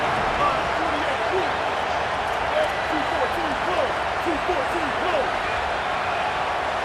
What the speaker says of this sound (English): And with this place rocking,